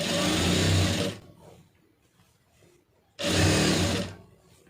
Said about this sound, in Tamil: கரெக்டாக அந்த ஒட்டில் அப்படியே தையல் போட்டு வந்துடுங்க